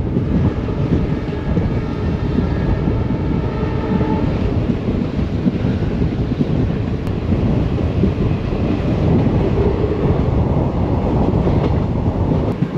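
The Mysuru–Talaguppa Intercity Express, hauled by a WD-series diesel locomotive near the Mysuru outskirts, rumbles along in a steady, loud roar of wheels and carriages with faint clickety-clack and wind buffeting the microphone.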